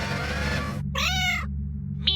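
A cat meows twice in a radio drama, a long drawn-out cry followed by a short clipped one, loud and close over a steady low background hum with no talking.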